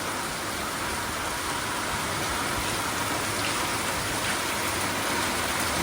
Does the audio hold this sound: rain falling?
yes